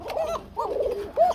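Pigeons cooing in a loft of domestic pigeons kept for sale, three soft warbling coos in a slow rhythm, close and fairly quiet, with no other sounds.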